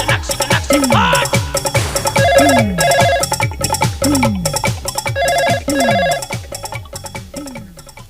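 A telephone rings loudly and repeatedly in a comedy sketch set in a telephone department. The ringing comes in bright, tonal bursts that repeat steadily over several seconds alongside jingly musical tones, with no voices.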